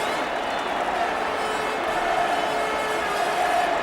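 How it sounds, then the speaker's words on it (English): Football crowd at a Spurs match roaring and cheering after a Greaves goal, a steady, dense wall of distant stadium noise holding at a constant level throughout. "they really cheer when Greaves bangs one in"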